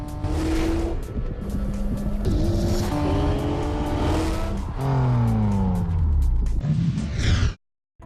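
Peugeot RCZ sports car on the move, its engine revving up and down through several gear changes in a loud, continuous drive before cutting off abruptly near the end.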